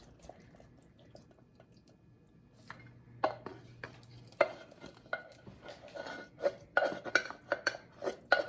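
Canned kernel corn emptied into a cooking pot for chicken corn chowder, with scattered metallic clinks and scrapes of a utensil against the can and pot, wet plops and rattles growing busier toward the end.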